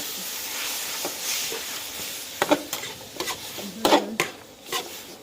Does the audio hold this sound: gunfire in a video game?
no